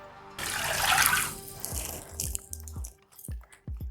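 Water is poured into a pan of millet for soup, a brief gushing splash that settles into scattered drips and small splashes.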